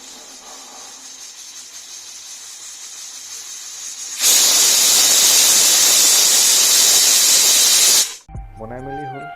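A pressure cooker cooking meat builds to a loud, sustained blast of hissing steam as its whistle releases, after a quieter stretch of faint hiss and before a brief musical jingle.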